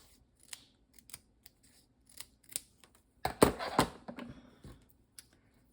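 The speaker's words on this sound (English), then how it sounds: "let me cut some more dimensionals." Scissors snip paper dimensionals at a craft table: scattered light snips, then a burst of several close, crisp cuts in quick succession, with soft handling noises between and no talking.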